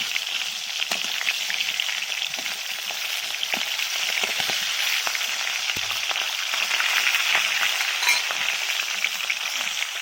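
Rohu fish heads fry in hot oil after being flipped, giving a steady, dense sizzle with scattered pops and crackles throughout, close and moderately loud with no voices.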